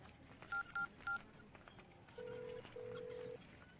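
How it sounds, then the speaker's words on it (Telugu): Phone keypad tones beep as a number is dialed: three short beeps in quick succession, then two longer tones, faint and close in a quiet room. "ఒక ఫోన్ చేసుకోవాలన్నా."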